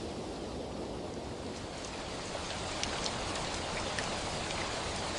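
Gentle rain falls in the mountains around a hill station home, an even, steady hiss of drops at soft-to-moderate loudness with no voices.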